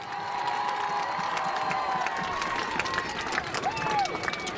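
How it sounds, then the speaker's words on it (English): Crowd in a high school homecoming stadium, steady applause and cheering with scattered shouts, a continuous wash of clapping at a moderate distance without a clear break. "Let's hear one more round of applause for our foreign exchange student, Annie Rosalainen."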